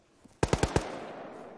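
Rapid burst of four or five gunshots in the video game ArmA 3, sharp and evenly spaced, followed by a lingering reverberant tail; a faint click comes just before.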